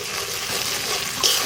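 Ground ginger, cumin and coriander paste with chillies and pepper frying in a pan for Bhetki fish curry, giving a steady broadband sizzle with no talking.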